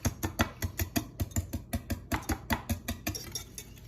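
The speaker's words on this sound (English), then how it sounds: "I'm gonna take my whisk and whisk them all up until they're as uniform a color and texture as possible" Raw eggs are whisked in a bowl at a camp kitchen, producing rapid, evenly spaced clicks and taps of the whisk against the bowl, about five a second, close and clear with no speech.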